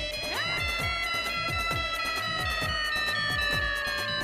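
An incoming call rings on a phone as a bright, melodic ringtone plays a repeating pattern of tones, moderately loud and steady, with no talking over it.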